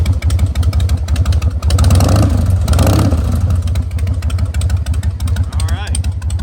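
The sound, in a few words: 2003 Harley-Davidson Softail Standard carbureted motorcycle engine running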